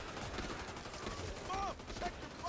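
Rapid machine gun fire rattles continuously in a video game, dense and fairly loud, under faint voices.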